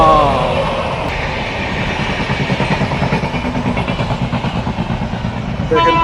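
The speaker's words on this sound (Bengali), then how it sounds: "দেখেন কত বড় ট্রেন," An electric passenger train rolls past nearby, its loud, steady rumble carrying a regular rhythmic clatter of wheels over the rail joints that continues throughout.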